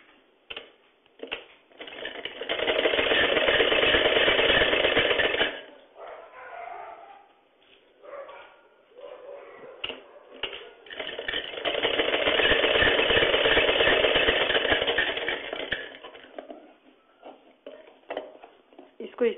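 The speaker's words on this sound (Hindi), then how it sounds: "इसको इस तरीके से सिलाई कर लेंगे।" A sewing machine stitches a cut neck strip onto a blouse in two long, steady runs of dense mechanical whirring, separated by quieter pauses with faint handling sounds.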